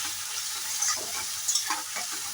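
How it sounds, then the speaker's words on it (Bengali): Fried potatoes being stir-fried with a spice paste for a vegetarian dish, giving a dense steady sizzle with a few soft stirring scrapes, close and loud, with no speech. "এবারে এর সাথে এই মশলার পেস্টটা অ্যাড করে দিয়ে একটু কষানোর পালা"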